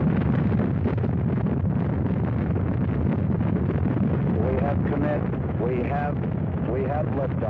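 The five F-1 engines of the Apollo 8 rocket roar at liftoff from Launch Pad 39, a loud, dense, continuous rumble with crackling texture that holds steady throughout, with faint tonal traces toward the end.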